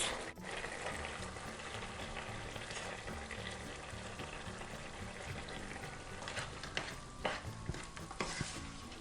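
Ready-made manti stirred with sauce in a pan, with soft continuous scraping and a low sizzle, faint and close, ending with a few sharper spoon knocks.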